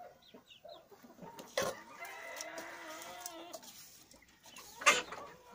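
Chickens and roosters cluck and call inside a coop, with a sustained rooster-like call in the middle and a sharp squawk near the end, close and moderately loud.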